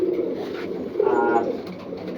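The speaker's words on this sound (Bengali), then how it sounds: "দেওয়ার সাথে সাথেই মাশাআল্লাহ কবুতরগুলো খুব সুন্দরভাবে পেয়ার নিয়ে নিতেছে।" Pigeons coo close by in a loft after being paired for breeding, soft throaty rolling coos repeating over a quiet background.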